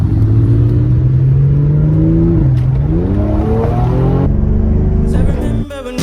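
Close, loud engine drone from a Mercedes C43 AMG tuned with a JB4 as it accelerates hard, pitch climbing steadily through the gears with a brief shift dip, ending in a sharp cutoff and rattle.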